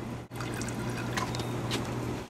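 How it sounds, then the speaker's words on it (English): Water drips and trickles into the reservoir of a homemade hydroponic garden, giving a soft, steady liquid patter up close with a few brighter drips. "The water's dripping out, and you can see the water's filling up in that reservoir in there."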